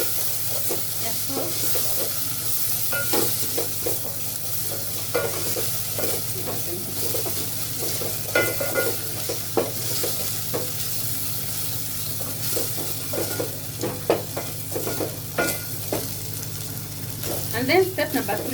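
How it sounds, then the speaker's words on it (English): A garlic and ginger mixture frying in a pan for a matoke and beef stew, with a steady loud sizzle and repeated scraping strokes of a spoon stirring it, close up, and a brief word spoken near the start. "we are going to add our garlic and ginger mixture. And then we are going to stir and let them cook for about 1 minute."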